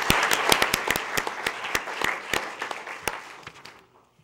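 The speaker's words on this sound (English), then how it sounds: "let's give the Modernaires a round of applause" Sustained applause for the Modernaires at a school board meeting, a steady crowd of hands clapping with sharp individual claps standing out, tapering off near the end.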